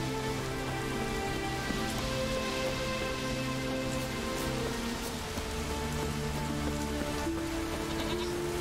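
Steady rain patters throughout while goats bleat, rising and falling in the foreground, fairly loud and continuous, in the video game The Witcher 3: Wild Hunt.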